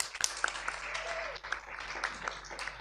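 Light, scattered clapping from a small group at a panel discussion, brief and fairly close, with a faint murmur of voices underneath.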